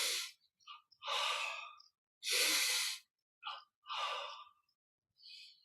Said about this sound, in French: Expire, on relâche.